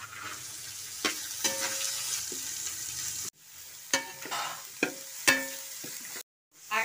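Chopped beans and carrots frying in a pan with onion and ginger for a Kerala-style vegetable rava upma, with soft sizzling broken by sharp stirring scrapes and brief gaps, close and fairly quiet.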